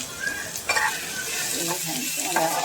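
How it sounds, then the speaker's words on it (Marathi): Onion and capsicum sautéing in hot oil in a pan, with a steady close sizzle and a few stirring scrapes of a spoon through the pieces, no voices. "थोडा आपला कांदा परतला की त्याच्यावरती शिमला मिरची घालायची."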